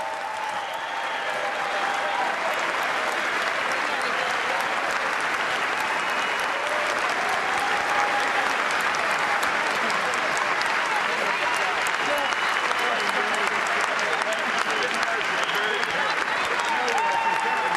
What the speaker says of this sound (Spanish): Ahí vemos, Hernán, los aplausos